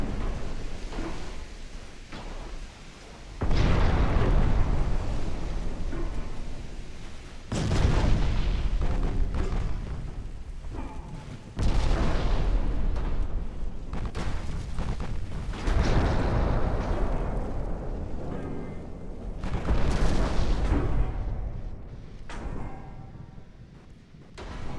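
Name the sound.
naval gunfire from video game Ultimate Admiral Dreadnoughts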